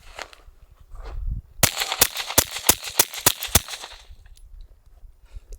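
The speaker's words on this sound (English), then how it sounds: "Beretta 80X Cheetah with the shorter configuration still." A Beretta 80X Cheetah .380 ACP pistol fitted with a Dead Air Nomax 33 suppressor fires seven sharp, suppressed reports in a quick, steady string, loud and close, with no talking.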